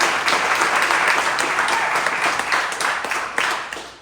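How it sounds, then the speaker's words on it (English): Warm audience applause for first-year community studies students at a Wednesday night ceilidh, loud dense clapping from a crowd that tapers off at the end. "a warm round of applause for these first-year students"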